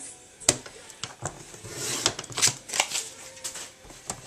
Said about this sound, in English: First I'm going to cut this out using my trimmer.